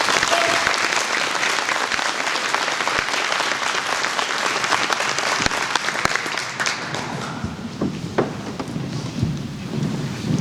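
An audience at a high school NJROTC inspection breaks into a long round of applause. The dense clapping rolls on for several seconds before it thins into scattered claps and faint murmuring.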